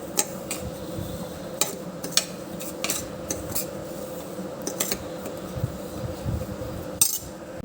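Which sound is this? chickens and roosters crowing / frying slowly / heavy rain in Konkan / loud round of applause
frying slowly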